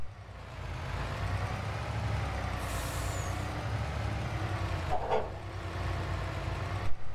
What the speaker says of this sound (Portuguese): O som padrão do jogo, tá? O som padrão do caminhão americano.